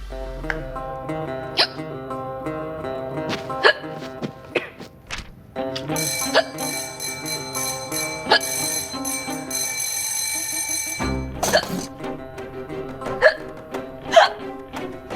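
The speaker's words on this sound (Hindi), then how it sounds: "आपको इतनी हिचकी क्यों आ रही है?" Repeated comic hiccups from a woman in a Hindi TV comedy scene, sharp bursts recurring every second or two over a bright, bell-like musical backing.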